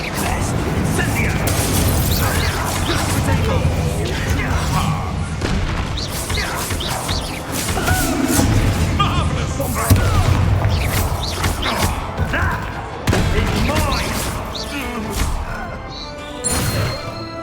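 An Incendio fire spell is cast during a Hogwarts Legacy duel, with crashing blasts, booms and whacks of combat effects coming thick and loud while character voices speak over the fight.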